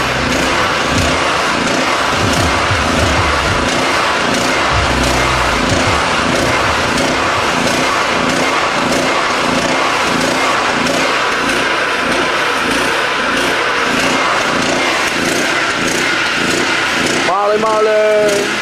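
A generator engine running on HHO fuel, a steady close mid-pitched drone that holds without a break, with a brief pause and a shift near the end as someone speaks.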